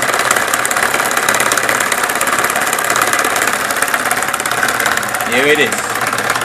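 An unbalanced Newman motor driven by a Bedini circuit runs at speed with a steady, loud, rattling hum and knocking vibration throughout, and someone speaks briefly near the end.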